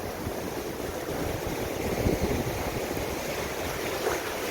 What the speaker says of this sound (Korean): 파도가 생각보다 높진 않아요.